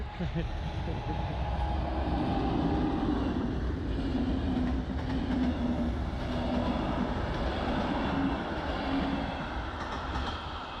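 A train rolling past near Lake Balaton, a steady loud rumble of wheels and cars with faint clacking that lasts throughout, heard close by with people talking over it.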